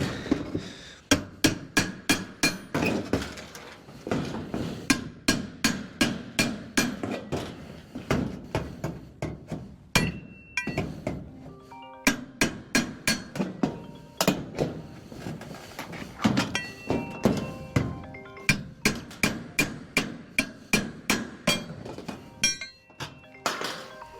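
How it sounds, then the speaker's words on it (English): Repeated sharp metallic hammer strikes and clanks as nails are pried from metal roofing, irregular and close, with brief pauses between bursts of blows. "Take and put this hammer under there, pull it right out."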